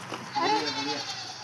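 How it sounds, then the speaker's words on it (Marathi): A sheep or goat from Kashmir bleats close by, one wavering cry lasting about a second over a quiet background. "आमचे काश्मीरचे मेंढ्या आहे बरं का"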